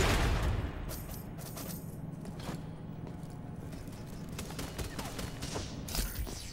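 Gunfire crackles in the video game F.I.S.T.: Forged In Shadow Torch, a sharp burst at the start fading into a dense, rumbling background of shots and mechanical clatter, fairly loud and without speech.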